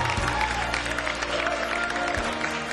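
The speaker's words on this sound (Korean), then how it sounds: "레드포스 팀에게 다시 한번 축하 박수 부탁합니다." Congratulatory applause from a crowd at a ceremony honoring a gaming team, a dense, steady wash of clapping that fills the whole stretch without pause.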